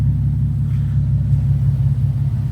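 Nissan 370Z engine idling and lifting gently in a workshop, a steady deep rumble held close and loud without any sharp rev peaks.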